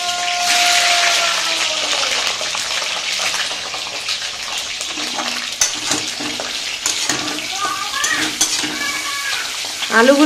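Eggs and potatoes fry in a wok with a loud, dense hiss that stays steady throughout, overlaid by scattered spatula scrapes and taps near the end.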